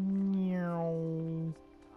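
A voice imitates a cat meowing in the medieval game Kingdom Come: Deliverance: one long, low, drawn-out meow lasting about a second and a half, alone and close.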